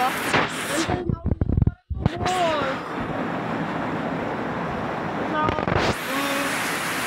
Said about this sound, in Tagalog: Umuulan pa rin.